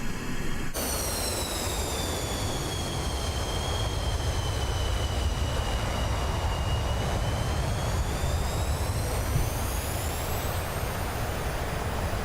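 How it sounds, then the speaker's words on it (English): Warbird jet on afterburner during takeoff in Microsoft Flight Simulator, carrying an extra fuel tank over Greenland, Iceland and the Faroe Islands: a steady, loud engine roar with heavy low rumble and rising whining tones, continuous throughout with no talk. "With the extra tank, I might need full balls on this one, so let's go afterburner."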